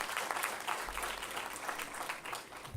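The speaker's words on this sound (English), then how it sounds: "You all should celebrate and clap for yourself." Graduating MBA students at a graduation day ceremony clapping for themselves, with a continuous, fairly soft wash of applause from a large seated crowd.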